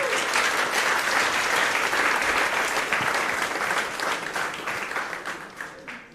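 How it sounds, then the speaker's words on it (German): Applause from a youth hackathon audience for a two-person team presenting a smart air-conditioning project, dense and steady clapping that stays loud for several seconds before tapering off slightly at the end. "Deswegen Applaus für Benny und Nele."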